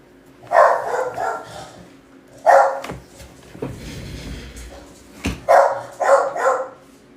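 A dog barks in several loud, close bursts of two or three sharp woofs each, spaced by brief pauses, with some softer whimpering between.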